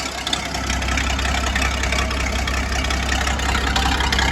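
A Massey Ferguson 1250 tractor engine runs steadily nearby, a constant low rumble with no breaks and no voices.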